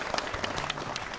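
Studio audience applause at a live TVRI Central Java broadcast after an acoustic song performance, a dense, steady patter of many hands clapping at a moderate level, with no voices over it.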